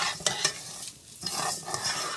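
Rice fries in a pan while being stirred, a sizzling hiss broken by several quick scraping stirs of a utensil against the pan, close and clear with no talking.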